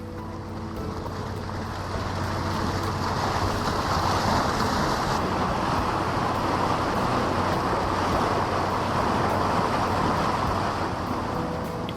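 A boat cruises out onto clear blue open water at around 8 to 9 knots, a steady broadband rush of engine, hull and splashing water with wind, loud and continuous throughout.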